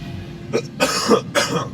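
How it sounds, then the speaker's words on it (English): Three rough coughs close to the microphone, a short one followed by two longer, harsher bursts. "you're gonna have to excuse my coughs"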